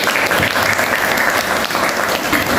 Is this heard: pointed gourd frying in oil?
no